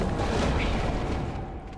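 Horn-triggered explosion in the video game Hell Pie, a dense, loud rumbling boom that fills the whole short moment and fades slightly at the end.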